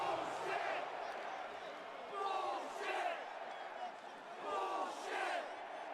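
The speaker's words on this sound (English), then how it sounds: "Crowd letting this man know that that title was not retained here tonight." Arena crowd in the wrestling video game WWE2K25 reacting after a title match, a broad roar that swells and fades in waves with chant-like peaks, steady and fairly loud throughout.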